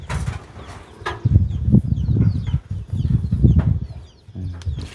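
Farmyard chickens clucking at close range in rural Thailand, a steady run of low, throaty clucks with occasional sharper calls over five seconds, with no talk.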